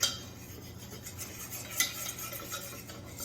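A roux of equal parts fat and flour cooking down in a pan, stirred for a cheese sauce: steady scraping strokes of a utensil against the pan with a faint background sizzle and a couple of sharper knocks.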